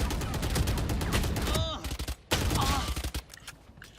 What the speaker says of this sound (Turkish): Oradan biri sıkıyor.